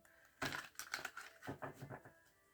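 Tarot cards being shuffled, a quick run of soft papery riffles and flutters close by, fairly quiet, with no talking.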